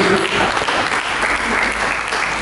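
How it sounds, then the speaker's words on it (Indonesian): A church congregation applauds loudly after a sermon, a thick, sustained roar of many hands clapping at once with no pauses. "Mari kita sambut, kita berikan tepuk tangan bagi"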